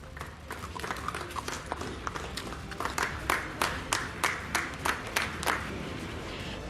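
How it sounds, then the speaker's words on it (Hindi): A crowd claps in welcome of a police coronavirus initiative, beginning as scattered clapping that builds into a louder run of sharp, fairly regular claps over a steady background hum. "पुलिस की इस पहल का लोगों ने तालियां बजाकर स्वागत भी किया"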